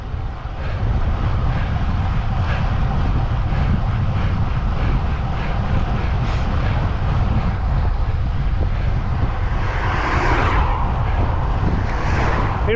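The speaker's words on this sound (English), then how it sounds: "We've got a nice wind." Loud, steady wind roar buffets a bike riding at about 24 mph on roads in West Lancashire, a dense low rumble filling the whole stretch without letup and with no talk over it.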